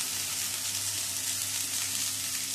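Dheki shak greens fry in a pan with green chilli and onion, giving a steady, close, hissing sizzle that holds evenly throughout with no talking.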